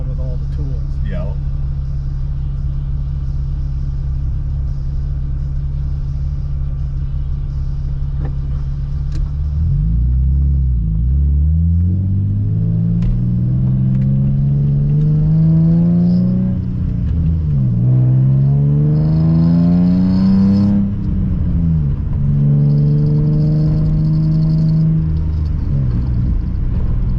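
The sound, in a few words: Volkswagen drift car engine revving while driving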